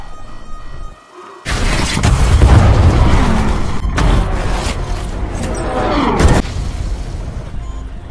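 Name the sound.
airlock explosion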